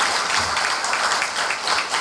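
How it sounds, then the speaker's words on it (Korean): Dense, steady audience applause fills a hall at a 2015 development cooperation awards ceremony, many hands clapping continuously for the honored aid workers, close and loud throughout. "우리 다시 한번 박수해 주시면 감사하겠습니다"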